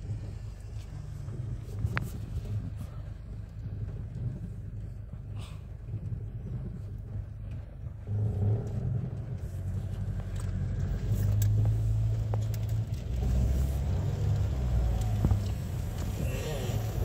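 City buses numbered 1005 and 14601 pass on a street, a low engine rumble swelling louder midway as a second bus rolls near, with wind buffeting the microphone and voices talking over it.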